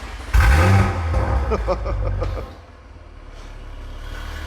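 A car engine with a bespoke exhaust, valves open, roars to life and revs hard several times, loud and close, then settles into a lower idle rumble.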